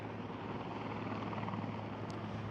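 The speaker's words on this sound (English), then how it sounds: "there's a helicopter in the shot, is it? It's right behind your head." A helicopter drones steadily from behind, a constant distant low rumble with a hum, faint and unbroken, outdoors near water with boats and cars around.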